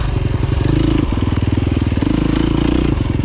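Loud, steady engine of a KTM 350 XC-F dirt bike running a Vortex ECU tune, riding off-road and pulling hard, with a dense rhythmic four-stroke pulse that swells as the throttle is cracked open.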